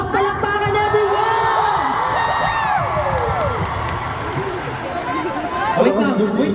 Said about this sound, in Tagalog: Kulang sa palakpak. Palakpakan everyone!